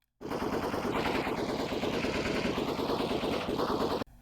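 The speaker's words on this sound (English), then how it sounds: "we've got my finger right here ready to fire" A firearm in the video game ChilloutVR firing a rapid automatic burst, loud and close, lasting about four seconds before stopping abruptly.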